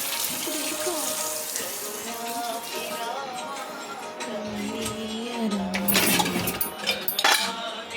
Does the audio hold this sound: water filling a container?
yes